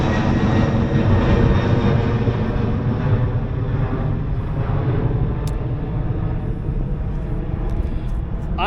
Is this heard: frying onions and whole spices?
no